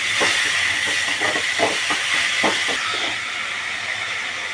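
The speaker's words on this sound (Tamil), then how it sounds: "போட்டு இதை நல்லா வதக்கிடுங்க." Tomatoes sauté for sambar in a hot pan, giving a steady loud hiss with soft scraping stirs throughout, no voices.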